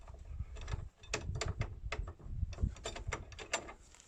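Socket wrench working a car's front suspension bolt during a strip-down for polyurethane bushes: a run of close metallic clicks and ratcheting taps in uneven bursts, fairly quiet, with no talking.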